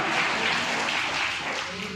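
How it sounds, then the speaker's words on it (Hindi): Dense applause from a crowd at a business meeting, a continuous wash of clapping that holds steady and tapers slightly toward the end. "एक बार जोरदार तालियां"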